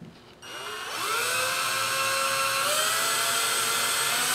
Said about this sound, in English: You're just going to drill that out a little bit with the smaller of the 2 drill bits supplied in the kit.